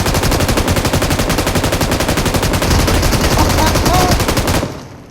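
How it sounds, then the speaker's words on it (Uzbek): Sustained machine gun fire in rapid, even bursts, loud and close, running continuously for nearly five seconds before cutting off abruptly. "Pulemyot bilan hayda."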